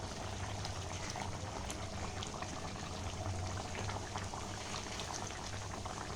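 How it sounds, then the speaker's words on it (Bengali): Water boiling in a pot on the stove, set aside as hot water for a chicken dish; a continuous, fairly quiet bubbling and simmering hiss without pause or speech. "জল একটু আমি ফুটতে দিয়েছি।"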